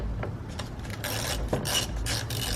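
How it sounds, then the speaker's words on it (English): Size 10 battery cable nut being loosened with a hand tool on a 2014-2018 Mazda 3, a close, soft series of scraping, rasping mechanical turns with a few small clicks, no talking. "First you're going to undo your battery cables."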